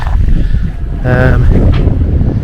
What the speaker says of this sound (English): because we were promised no wind, but actually it's picking up